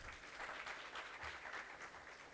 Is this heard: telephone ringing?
no